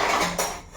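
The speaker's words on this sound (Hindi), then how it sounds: "ये जो बर्तनों का पहाड़ है इसमें से पहले मैं एक एक करके बर्तन निकालती हूँ" Still-wet kitchen utensils being lifted one at a time from a tall pile of dishes, giving a quick, close clatter of metal and crockery knocking together, with no talking.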